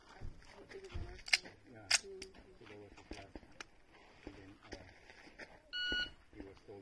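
A short electronic beep sounds alone amid people talking and background clatter, with a couple of sharp clicks earlier.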